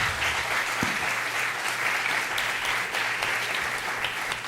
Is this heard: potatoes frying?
no